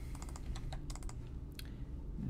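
Keys clatter on a computer keyboard while code is entered for a C# console game, a quick irregular run of close, crisp clicks with short pauses between bursts, no talking.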